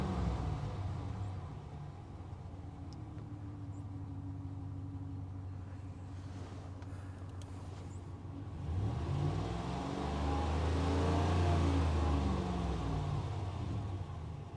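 A Ram 1500 engine idles with a low hum, then revs up in a rising, swelling roar that holds briefly before easing back; the truck is setting a cam sensor code.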